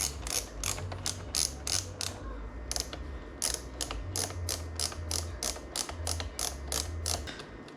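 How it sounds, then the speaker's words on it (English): A screwdriver is turned by hand on the circuit boards of a Behringer X32 Compact mixer, giving a fast run of ratcheting clicks in bursts with brief pauses, close and clear, no voices. "I'm gonna be putting in the screws on these circuit boards, like in here manually."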